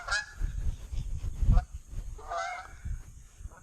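Several geese honk nearby on a rock pier at Conestoga Lake, a few loud calls scattered over a few seconds against low rumbling background noise.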